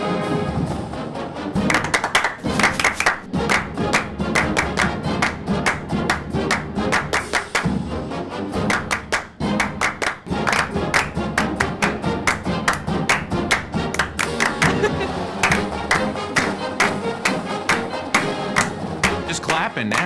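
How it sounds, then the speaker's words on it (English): A small group claps along in time while a band plays, sharp rhythmic claps standing out over the music, with a brief dip partway through before the steady beat resumes. "Just clapping now."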